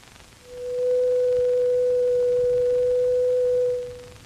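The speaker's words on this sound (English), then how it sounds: "This simple 500 cycle tone can be represented mathematically by a sine wave." A pure 500-cycle sine wave tone fades in, holds steady and loud for about three seconds, then fades out, alone over a faint hiss with no talking.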